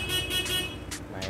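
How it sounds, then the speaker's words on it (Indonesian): A Honda CR-V horn fitted to a modified Honda PCX160 scooter sounds in short honks, loud and close, with a continuous hum underneath. "Klakson CRV."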